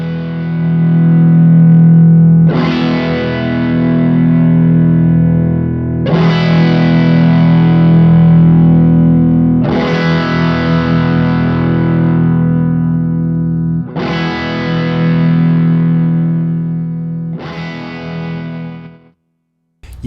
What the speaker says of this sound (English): I personally find my AC10 to be too loud to play at apartment levels